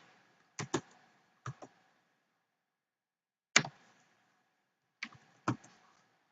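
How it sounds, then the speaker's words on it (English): Keys on a computer keyboard tapped in short clustered bursts, a few clicks at a time separated by pauses, close and fairly quiet with no talking. "I am going to type in"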